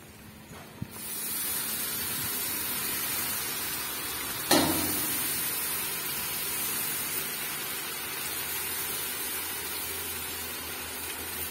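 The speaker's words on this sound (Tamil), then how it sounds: "பாருங்க நல்லாவே கொதிச்சு வருது" Tamarind water for tamarind rice boils in a pan with a steady, close, broadband hiss and bubbling, and a brief splash partway through.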